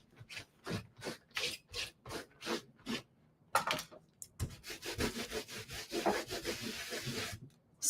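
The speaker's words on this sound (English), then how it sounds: "I love that scrubber for cleaning my stamps" Rubber stamps are scrubbed clean on a stamp scrubber in close, quiet rhythmic strokes of brushing and rubbing, steady at first, then a short pause, then quicker and more irregular scrubbing.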